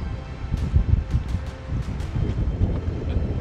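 Wind blowing over open water near a glacier, a steady rushing and buffeting roar with gusty rustling surges throughout, loud and close to the microphone, no voices.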